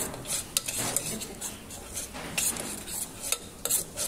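Metal spoons clinking and scraping against a cooking pot while carapulcra is being made, a close, continuous clatter with brighter ringing knocks scattered throughout.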